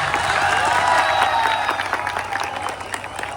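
An audience clapping for Vasankar sir, a dense, steady burst of applause with some crowd murmur, fading slightly toward the end.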